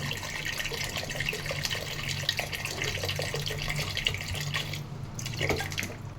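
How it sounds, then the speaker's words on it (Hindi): Water poured into a pressure cooker over potatoes, a steady trickling splash running throughout, close and moderately loud, easing slightly near the end. "अब इसमें थोड़ा सा पानी डालेंगे, कम से कम उतना पानी जितने में आलू आधे डूब जाएं।"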